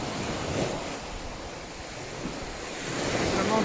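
Sea waves wash onto a beach on Sardinia's west coast in the evening, a steady, close roar of surf with gusts of wind across the microphone, swelling louder near the end.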